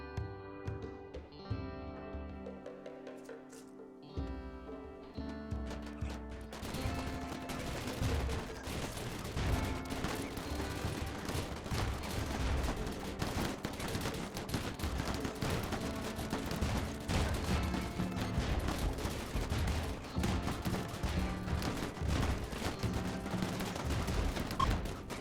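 Shotgun gunfire in a Rimworld battle: after a brief musical opening, a steady dense crackle of rapid shots continues throughout, loud and unbroken under the game's music.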